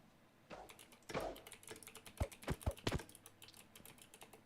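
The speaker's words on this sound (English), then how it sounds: "I really hear you typing away." Typing on a computer keyboard, quiet and close, a sparse run of sharp key clicks that quickens into a brief cluster of taps before trailing off, with no speech.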